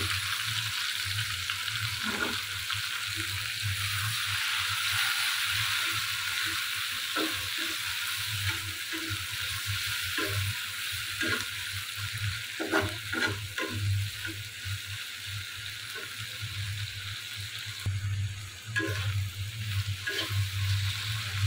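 Spice paste poured into hot oil and frying in a pan, a loud continuous sizzle over a low steady hum, with scattered scrapes and clicks of stirring, close up and with no talk.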